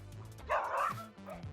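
A dog barks in a short burst of loud yips and bow-wows from one animal in a chase involving another dog and a bear, rising mid-clip and then settling into lower whines.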